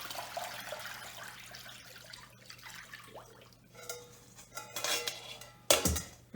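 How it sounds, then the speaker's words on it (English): Brine pours from a container over steelhead fish, a soft clinking of dishes and liquid splashing building toward louder sloshes near the end, heard alone without talk. "We're going to pour it in."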